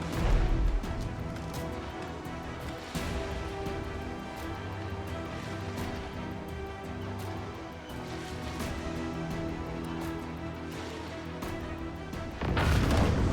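Ship mortar fire in the video game Abandon Ship, heavy booms and crashes breaking through a dense, continuous battle din, with a strong hit near the start and another near the end.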